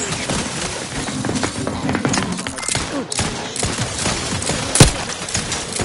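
Rapid gunfire rattles through a firefight in the video game The Outer Worlds 2, dense overlapping shots under busy combat noise, with one sharper, louder crack near the end.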